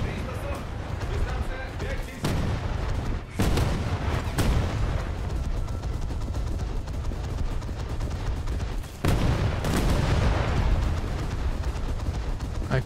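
Heavy naval gunfire in a naval combat game pounds a ship continuously, loud dense booms and blasts with sharp louder bursts around a few moments, a steady barrage throughout.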